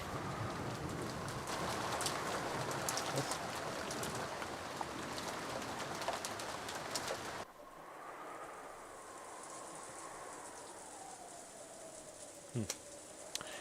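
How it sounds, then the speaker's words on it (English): Steady rain hissing in the Umineko: When They Cry visual novel, a continuous wash of falling water that drops to a softer, thinner patter partway through, with a faint tonal hum running beneath. "it was the sound of the rain, which had continued on and on since the previous night"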